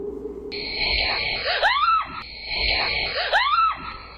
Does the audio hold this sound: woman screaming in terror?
yes